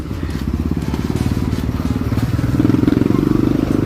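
A Barako motorcycle converted to a three-wheel tricycle climbs uphill, its engine chugging in a rapid, steady putter that grows louder and more strained toward the end.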